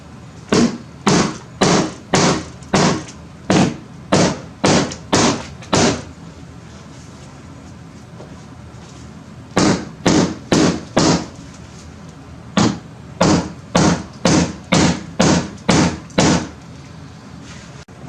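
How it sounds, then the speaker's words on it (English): Hammer blows flattening the exposed rope pulleys of an old window frame during a Jeld-Wen replacement window installation, loud and close, in two rapid runs of about ten even strikes each, separated by a pause of a few seconds. "Just hammer them flat."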